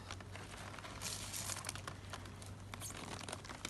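Onion roots grown in professional coir are cut and torn through, giving dense, close crinkling and tearing crackles that continue steadily and quietly with no voices.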